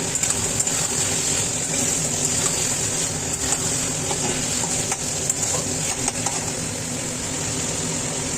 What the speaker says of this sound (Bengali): আমি ভেজে রাখা আলুগুলো দিয়ে দিলাম, দিয়ে একটু ভালো করে নাড়িয়ে নেব।